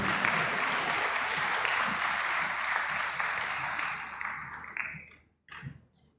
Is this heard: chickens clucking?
no